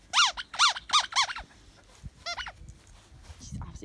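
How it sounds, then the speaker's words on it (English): A dog plays with a big squeaky toy, squeezing out four quick, loud, high squeaks in a row, then a shorter burst of squeaks after a pause, with soft rustling between. "Nice big squeaky toy."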